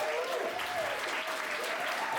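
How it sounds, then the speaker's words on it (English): Wedding guests applauding the family at a reception, a steady dense wash of clapping that holds evenly throughout, with faint voices mixed in underneath. "One more round of applause for the entire family,"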